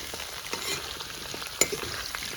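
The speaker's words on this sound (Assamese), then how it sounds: "এতিয়া কঁঠাল চলাগৈও" About 1.5 to 2 kg of jackfruit sizzles quietly as it is stirred in a large kadai, with soft scraping stir strokes and small clicks over a steady frying hiss.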